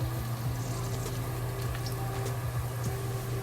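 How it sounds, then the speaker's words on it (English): Scallion, garlic and chili pepper slowly frying in oil in a pot, a steady soft sizzle and bubbling at low volume with a faint low hum underneath, continuous throughout. "We add the scallion, garlic, and chili pepper into the oil to slowly fry."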